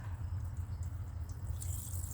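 Water dripping and trickling out of the oil pan of a Vortec 350 V8 engine on a garage floor, faint and steady over a low background hum, with no one speaking.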